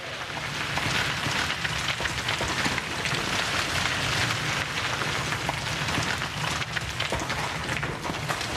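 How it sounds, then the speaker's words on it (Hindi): Steady, dense rain patters on a surface, an even wash of drops with no pauses, used to stand in for a shower of diamonds falling on another planet. "इस सैयारे पर हीरों की बारिश हो रही है, हीरे बरस रहे हैं यहां पे।"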